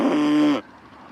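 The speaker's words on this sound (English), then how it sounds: "These are cows." Cattle on a homestead, a single loud, close moo holding a steady pitch for about half a second before cutting off to quiet background.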